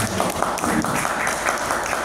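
Brief applause from an audience at a school program presentation, loud and close, with some uneven clapping bursts over a short span.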